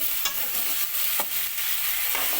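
Sliced bitter gourd sizzles steadily in hot oil in a pan, a continuous close frying hiss broken by a few short scraping stirs.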